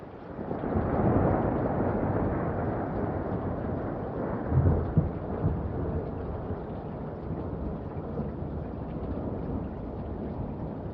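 A thunderstorm sound effect of a storm breaking out at sea, with rolling thunder and rain. A dense, steady roar carries a low rumble that swells near the start and again around the middle, and no one speaks.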